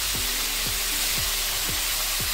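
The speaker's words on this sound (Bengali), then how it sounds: "এইভাবে আমি 2 মিনিট কষিয়ে নেব মূলোটা" Radish and potato sizzle steadily in a hot pan after salt and turmeric go in, a dense close frying hiss with soft rhythmic scrapes of stirring about every half second, with no talk.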